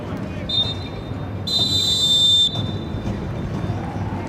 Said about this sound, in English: So there is the halftime whistle.